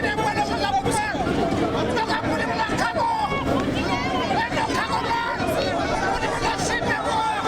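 A dense crowd at an airport terminal chatters loudly and argues as a Grand Chief's casket is placed in an aircraft's cargo hold. Voices overlap in a continuous, close babble.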